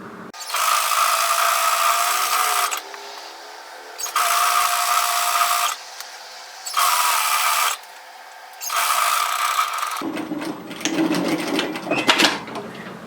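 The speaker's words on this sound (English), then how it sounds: "effectively what I'm doing is just stitching my hood down through the overlocking line" A domestic sewing machine stitches a hoodie hood down along the serging line, running in four loud, even bursts of rapid whirring with short pauses between them, then giving way to quieter handling noise.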